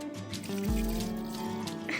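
Water gushes briefly out of a hiking wader boot, a short splashing pour and trickle, close and quiet, over a low background hum.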